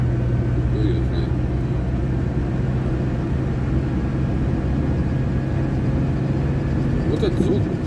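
A GAZ 2790 engine held at about 2000 rpm, a steady close idle-like drone with a continuous low rumble and faint mechanical knocking, no clear squeak standing out; a voice speaks briefly near the start and end.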